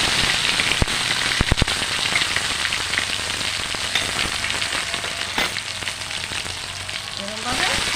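Garlic, ginger and tomato paste frying in a pan with cumin and bay leaf, a steady close sizzle and crackle running throughout with a few sharper pops.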